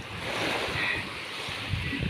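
Ocean waves wash onto the beach at Cambalo, Cajidiocan on Sibuyan, a continuous rushing surf mixed with gusty wind noise on the microphone, fairly loud and with no talking.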